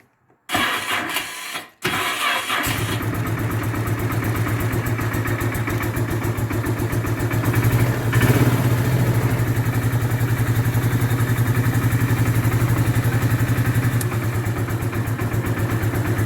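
A Bombardier Quest 650 ATV engine cold-starts at -12 degrees: a brief crank, then it catches and settles into a loud, steady, close idle that runs on alone.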